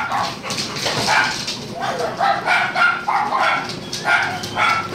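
Several dogs being introduced to a house pack, barking, yipping and whimpering close by in repeated bursts, with a few words spoken among them.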